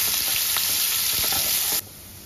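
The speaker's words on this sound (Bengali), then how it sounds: "এবার পেঁয়াজটা একটু হালকা করে ভেজে নেব।" Chopped onion fries in hot oil with a loud, continuous sizzle and occasional stirring scrapes, then the sizzle drops suddenly to a quieter level.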